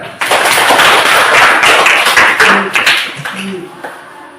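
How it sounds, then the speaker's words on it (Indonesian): Classroom clapping from students during a teaching practice lesson, a dense burst of many hands filling the room, loud and close, then thinning and fading toward the end with a few voices mixed in. "Iya, tepuk tangan"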